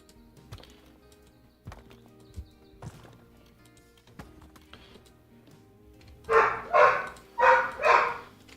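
Dogs bark indoors, four loud, evenly spaced barks near the end after scattered clicks and soft taps in a quiet room.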